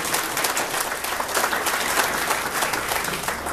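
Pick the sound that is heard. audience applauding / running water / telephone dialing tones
audience applauding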